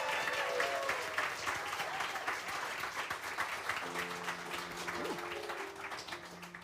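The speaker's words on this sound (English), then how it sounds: "If this is our winner, clap now." Audience applause voting for a favorite number at a live improvised musical cabaret in New York, steady and full-bodied clapping throughout, with faint tonal sounds partway through.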